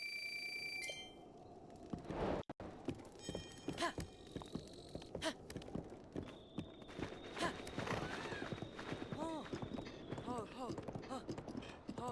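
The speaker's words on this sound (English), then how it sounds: "Now, off to the nearest stable to register the horse." Horse hooves clip-clop steadily in The Legend of Zelda: Breath of the Wild, a quiet rhythmic run of game hoofbeats with bright chime-like tones and a faint voice underneath.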